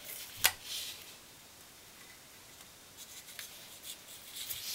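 Tear-off adhesive tape is ripped and pressed onto a paper shutter card: one quick sharp tearing snap, then faint close rubbing and light patting as the strips are smoothed down.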